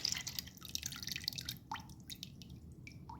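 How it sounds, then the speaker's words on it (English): Melted homemade black powder bullet lube dripping into a liquid measuring cup, a quick run of small wet drips followed by a few separate distinct drops, close and quiet. "Pour it straight into the liquid measuring"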